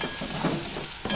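Grated cauliflower mash being stir-fried with Kashmiri chilli powder and salt in a pan, a short continuous sizzle with stirring close up.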